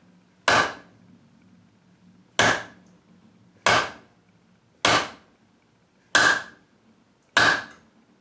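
Six sharp, loud impact-hammer blows from a bullet puller knocking a bullet free of a cartridge, spaced roughly a second apart, each a crisp knock with a quick decay.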